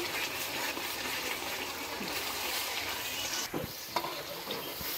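Yogurt, about 250 grams, sizzles and fries in a kadhai while being stirred for a chicken dish; a steady broadband hiss holds throughout, with a few soft scraping knocks near the end and no talking.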